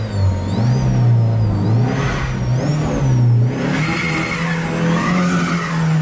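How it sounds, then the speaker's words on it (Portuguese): A lowered Volkswagen Saveiro pickup stuck against a speed bump, engine revving hard and steady while its tyre spins and burns out, with a loud continuous roar and a rising whine throughout. "queimando o pneu"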